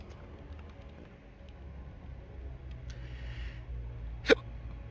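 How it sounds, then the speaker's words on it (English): A single sharp hiccup, close and sudden, near the end of a quiet stretch with a low engine hum from a space game. "Hiccups? No. Where did that come from? Space hiccups."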